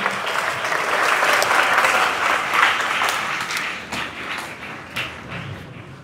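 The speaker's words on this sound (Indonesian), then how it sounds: "Tepuk tangan dong." A large crowd of students claps at a school flag ceremony and orientation opening, a broad sustained wash of applause that gradually thins and fades, with a few scattered louder claps and thumps toward the end.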